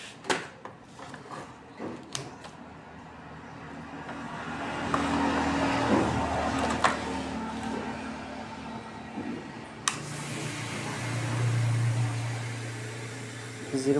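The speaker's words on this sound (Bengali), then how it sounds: "কম্প্রেসার চালু চলতেছে" A refrigerator compressor runs steadily after being wired up on its three terminals, a continuous low mechanical hum with clicks and handling noises, while a voice talks intermittently over it.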